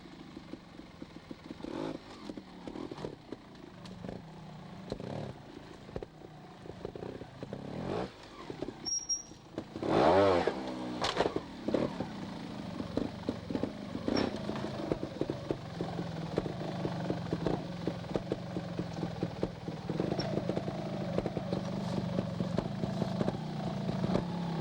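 A trial motorcycle picks its way through an obstacle section, its engine puttering and blipping in short bursts at a moderate distance, with one sharp rev near the middle and clattering over rough ground.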